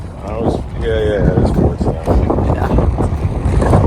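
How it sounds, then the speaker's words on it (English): Strong wind blowing across the deck of a Royal Caribbean cruise ship, loud steady gusting roar hitting the microphone, with a person talking over it throughout. "if you can hear me with all the wind"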